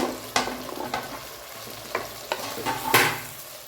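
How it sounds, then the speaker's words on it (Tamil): Brinjal pieces stirred and sautéed in hot oil for sambar, a soft continuous sizzle punctuated by a few distinct close spoon-against-pan scrapes and knocks, the loudest near the end. "நல்லா மிக்ஸ் பண்ணிக்கலாம் இது கொஞ்சம் இந்த ஆயிலே வதங்கட்டும்"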